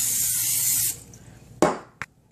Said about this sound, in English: this is just the oil to keep it from sticking